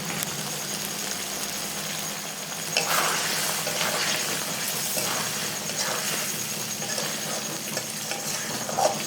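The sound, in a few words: stirring jackfruit soybean curry in pan after adding sugar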